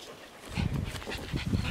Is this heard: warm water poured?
no